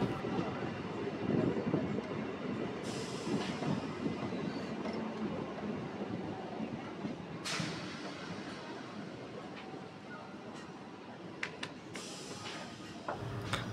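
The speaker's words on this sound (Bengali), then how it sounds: "আমাদের ট্রেন বর্তমানে এখন কৈকালা স্টেশনে প্রবেশ করেছে" A local train on the Howrah–Tarakeswar line pulls into Kaikala station, a steady broadband rumble of wheels and carriages with sharp clanks and bursts over several seconds, close and continuous, no talk.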